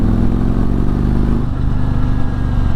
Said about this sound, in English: It's got the 2 into 1 into 2 exhaust out the back, so it should sound pretty good.